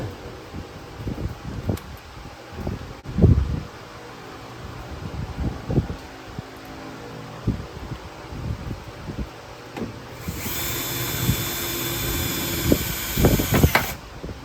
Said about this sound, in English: then I'll drill all the holes